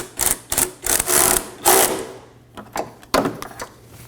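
Short bursts of a power tool snugging down a fuel tank strap bolt on a 2015-2023 Nissan Maxima 3.5L V6, rapid whirring pulses close up, then a quieter pause and a few more brief bursts.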